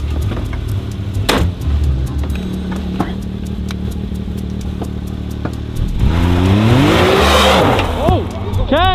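A side-by-side UTV engine revs and accelerates hard, loud throughout and building to a rising roar near the end, with people talking and shouting over it.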